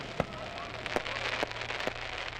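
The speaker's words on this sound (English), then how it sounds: "the loud explosions and flashes of lights from the fireworks are enough to send our pets into a panic" Holiday fireworks around the July 4th weekend pop and crack as a few scattered, distant bangs over a steady background hum.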